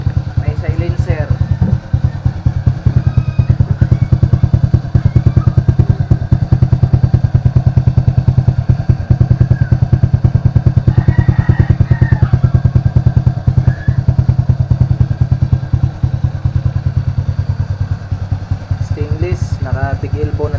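An Rs125 Fi motorcycle fitted with a Podium power pipe exhaust with a stainless big elbow runs steadily with a deep, continuous rumble throughout, loud and close, with voices talking over it.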